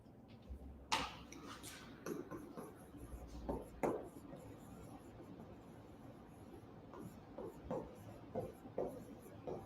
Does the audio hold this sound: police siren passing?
no